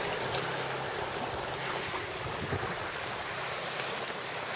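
Steady wind blowing outdoors, a broad continuous rush with occasional gusts, heard alone without talking.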